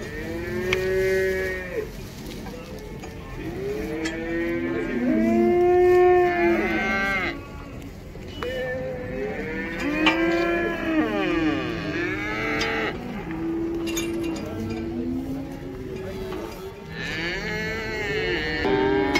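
At the Taraz cattle bazaar, many cows and bulls moo again and again, some near and some farther off, their calls overlapping across the crowded yard with a steady hum of activity underneath.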